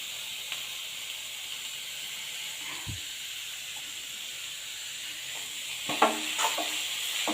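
Food frying with turmeric and salt in a pan gives a soft continuous sizzle and hiss, with a couple of brief scrapes and clinks of stirring near the end, with no voices.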